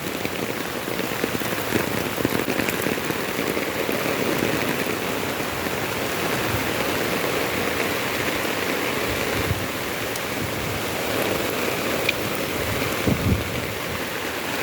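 Heavy rain pours steadily onto surfaces, a dense, continuous hiss of drops with no voices, close and loud throughout.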